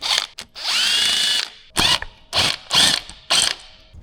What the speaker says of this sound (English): you can take a T30 and you can just crack off the 3 bolts holding the auxiliary oil pump